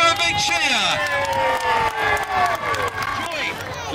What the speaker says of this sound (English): So give a nice big round of applause.